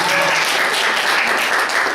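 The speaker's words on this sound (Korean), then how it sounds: "박수 한번 하죠." Brief burst of group applause for a finisher, many people clapping together in a loud, continuous wash filling the whole moment.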